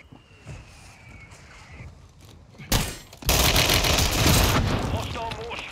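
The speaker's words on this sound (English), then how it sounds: "Mortar strike on the way" Mortar strike explosions in the Call of Duty Warzone video game: a sharp blast, then a sustained loud roar of overlapping detonations and crackling gunfire that continues to the end.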